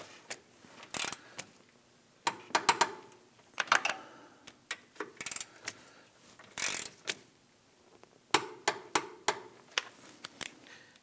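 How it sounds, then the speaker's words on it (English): A torque wrench clicks and ratchets while tightening the rear control arm bolts on a 2001–2009 Volvo S60 to 47 foot-pounds, giving a series of sharp close metallic ticks and clicks in irregular bursts. "Let's torque these down to 47 foot-pounds."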